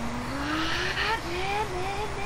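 A truck in a video game pulls a wheelie, its engine whining upward in pitch and dipping as it strains, loud and close with a faint hiss of tires.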